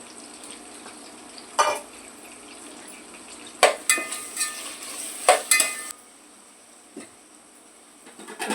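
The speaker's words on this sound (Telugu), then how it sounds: "ఇప్పుడు ఇందులోకి మసాలా వేసుకుంటున్నానండి ఇదిగోండి మసాలా" Masala is added and stirred into chicken for fried biryani, with quiet frying under scattered scrapes and clinks of a spoon against the pan, a few louder bursts of stirring.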